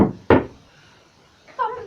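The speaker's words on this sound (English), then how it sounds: "is that somebody at the door over here?" A short knock on a door rings out once near the start, close and fairly loud, with a fainter, quieter sound following later in an otherwise still indoor room.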